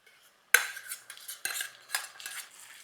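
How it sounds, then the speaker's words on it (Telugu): A spoon stirring ghee tempering with cashews into cooked ven pongal in a pot, a sudden metallic clank followed by several rhythmic scraping and clinking strokes, close and clear with no talking. "పొంగల్లో మన తాలింపు కలిపేయండి."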